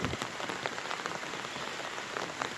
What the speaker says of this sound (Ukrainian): головне, що пішов дощ.